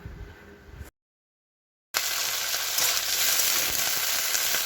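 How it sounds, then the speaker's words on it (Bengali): Cauliflower frying in a pan in a home kitchen, a steady loud sizzle with a brief dead gap early on before the crackling resumes and holds. "এখানে ফুলকপিগুলো ভেজে নিচ্ছি"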